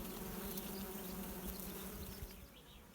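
Honey bees hum steadily around a hive where a new breeder queen is being introduced, a dense close buzz with no voices and a slight fade toward the end.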